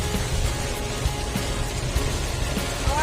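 Steady rain falling during a drive home from work, a continuous patter on the car with low road rumble underneath, no talking.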